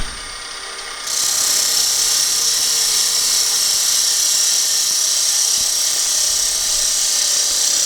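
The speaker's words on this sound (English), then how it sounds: "I'm just going to come in with my skew and do another peel and cut." A skew chisel makes a peel cut on a wooden bud vase turning on a lathe. A faint hum starts, then a loud steady high hiss begins about one second in and holds evenly to the end, with no talk.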